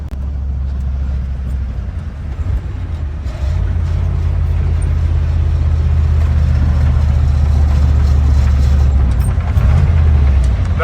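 An old International Harvester Loadstar crew cab truck drives steadily at about 40 mph, its loud, low engine droning continuously with a slight shift partway through, road and wind noise filling in around it.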